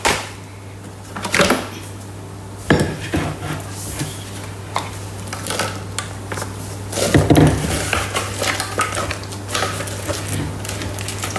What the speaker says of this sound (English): we're going to combine that with the aid of the spatula